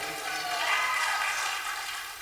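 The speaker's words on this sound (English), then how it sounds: "let's have a nice round of applause for Al and Heidi" Round of applause from a live-stream audience for a charity recovery event, a steady wash of clapping at moderate level with no distinct voices.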